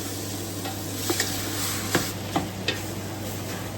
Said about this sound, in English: sugar, salt, prohok, fish paste. Gonna stir fry this.